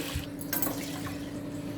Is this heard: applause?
no